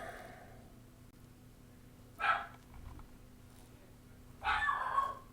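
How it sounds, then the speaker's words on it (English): Dogs bark in two short bursts, a few seconds apart, somewhat distant and fairly faint, over a quiet indoor hum. "My dogs love to bark"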